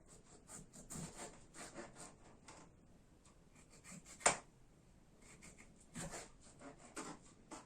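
A knife cuts the tops off tomatoes, making quiet, close scraping and rasping strokes in an uneven run of short cuts, with one sharper knock partway through.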